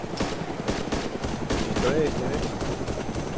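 Rapid machine-gun fire from an M2 in DayZ Origins rattles in dense bursts during a helicopter fight, mixed with engine drone and a voice talking over it.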